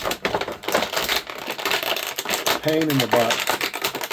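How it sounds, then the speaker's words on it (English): Plastic packaging crinkles and rustles in dense bursts while an action figure is unboxed, with a voice talking over the handling throughout. "probably annoying all my viewers with the plastic crinkling"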